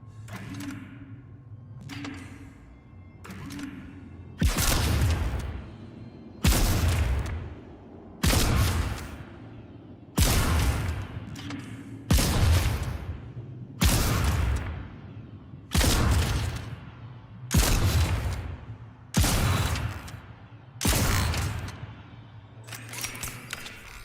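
Heavy weapon fire from the sci-fi horror game Dead Space, updated version: about eight loud, evenly spaced booming shots with sharp mechanical cracks, each trailing into a short rumble, with a low hum and clicks in the quiet stretch before them.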